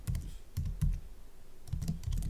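Keys on a computer keyboard clack in short, close clusters of taps with brief pauses, fairly quiet, while HTML is entered.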